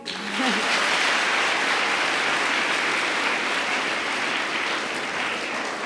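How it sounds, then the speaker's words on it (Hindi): Steady, dense clapping from a crowd, sustained at an even loudness for several seconds with no talking over it. "ताली बजाओ भाई।"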